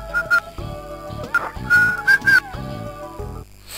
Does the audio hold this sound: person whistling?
yes